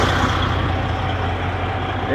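A truck engine idles in freezing winter weather after running all night, a steady, close, low rumble with a throbbing pulse and a constant hiss and no pauses.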